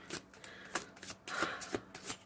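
Playing cards being shuffled in quick, soft riffling bursts, repeated several times at close range with no voices.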